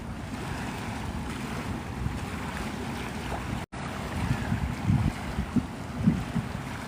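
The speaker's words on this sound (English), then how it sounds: "This is Santa Rosa Sound." Wind and water wash steadily at Santa Rosa Sound in Navarre, Florida, with gusty microphone buffeting over lapping waves and a brief dropout midway before the rough, close rush of air resumes.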